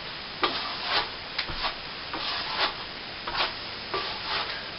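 Sanding or rubbing down a patched plasterboard ceiling to smooth it, a repeated scratchy abrasive stroke about once a second, close and steady with no talking.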